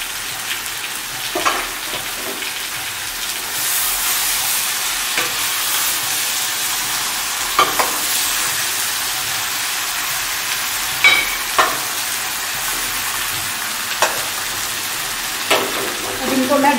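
Brinjal (baigan) frying in a pan, a steady close hiss and sizzle with occasional stirring scrapes and clinks throughout.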